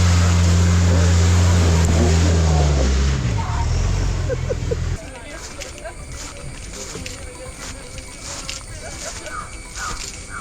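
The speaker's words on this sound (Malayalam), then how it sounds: "കല്ലൊക്കെ മാറ്റി കുറച്ച് മണ്ണൊക്കെ മാറ്റിയിട്ട് നമ്മുടെ വണ്ടി കയറി വരുന്നുണ്ട്." A family vehicle grinds up a rough, rocky forest track near Konni in Kerala, its engine loud and straining for the first half before the roar drops away and faint forest ambience remains.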